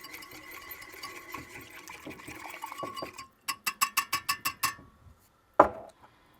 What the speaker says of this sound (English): Then we whisk that together.